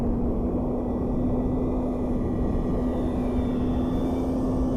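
An E-flite P-51 Mustang RC model plane making a low pass, a steady droning motor hum with a constant tone, fairly close and continuous throughout.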